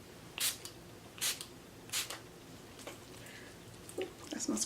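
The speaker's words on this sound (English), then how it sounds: "I am using Makeup Forever Mist and Fix." Makeup Forever Mist and Fix setting spray hisses in short, close bursts, about five quick pumps spaced roughly a second apart, with faint soft sounds between.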